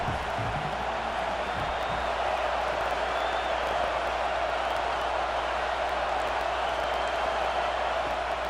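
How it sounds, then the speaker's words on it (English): Stadium crowd in an American football video game roars steadily throughout, a dense continuous cheer with whoops, held at a constant loud level without breaks. "Listen to this crowd just shaking the girders of this place, trying to help their defense."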